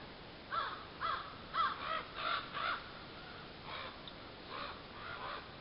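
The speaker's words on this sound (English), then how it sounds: "You can hear the crows going right now." Crows cawing in the evening outdoors at a campsite, a series of harsh, moderately distant caws in quick bursts, then a quieter second round of calls over a soft background hiss.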